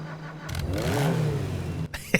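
Car engine in GTA 5 Online revving up and settling back, a single rising and falling rev close up with no talk, ending in a brief gap and a couple of clicks.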